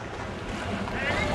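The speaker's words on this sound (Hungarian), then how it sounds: "Sajnos nagyon mozog a hajó." A sailboat rocks heavily on the open ocean during a round-the-world voyage, with a continuous wash of wind and waves and rushing gusts across the microphone.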